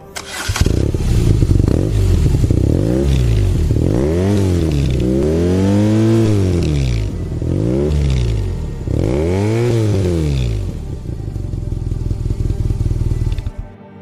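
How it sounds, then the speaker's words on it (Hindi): A superbike of the kind ridden in Mission: Impossible and War revs repeatedly, its exhaust note rising and falling in several loud, close sweeps over a steady idle. "और ये रही इस बाइक की एग्जॉस्ट नोट।"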